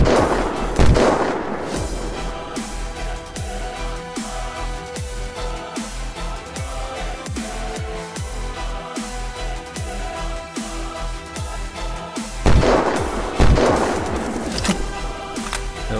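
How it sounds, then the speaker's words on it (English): Steady rapid gunfire in Unturned, close and loud, with repeated shots running the whole length and heavier bursts near the start and end; almost no talk. "shooting the hell out of them"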